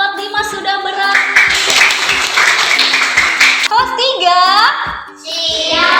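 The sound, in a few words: children's class applauding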